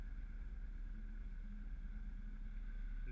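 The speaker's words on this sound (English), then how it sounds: "The jet makes so much noise though, it spooks the fish" Steady low jet boat engine drone with a constant hum, continuous and unchanging throughout, no voices.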